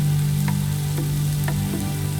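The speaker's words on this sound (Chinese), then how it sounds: "蒜瓣、葱节爆香，放羊肉翻炒" Lamb is stir-fried with garlic cloves and scallion pieces for red-braised lamb, a soft steady sizzle under a constant low hum, with a few light stirring taps, close by and without talk.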